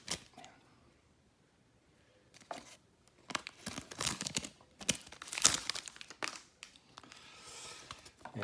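Pack of Court Kings basketball trading cards torn open blind, giving bursts of crinkling foil and tearing wrapper that come in uneven handling flurries, close and fairly loud, with a quieter stretch before the rustling builds.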